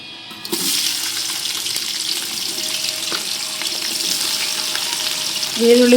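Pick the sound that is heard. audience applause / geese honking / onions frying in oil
onions frying in oil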